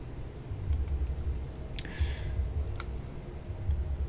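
Computer mouse clicks during a software tutorial, a few sharp, close single clicks spaced irregularly over a low hum of room noise.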